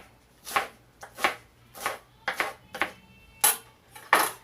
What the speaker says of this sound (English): slice it off, cut it two ways.